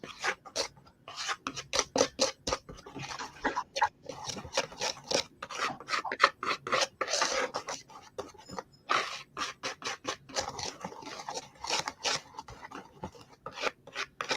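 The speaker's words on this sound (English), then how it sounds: "we've got to whisk this together as well. So that's your cocoa, your sugar, and your flour." A whisk scrapes briskly through cocoa powder, sugar and flour in a bowl, a fast run of dry rasping strokes heard close and alone.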